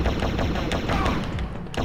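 Rapid gunfire aimed at the player in the video game Turok: Dinosaur Hunter, a dense stream of loud repeated shots with overlapping crackling reports filling the whole stretch.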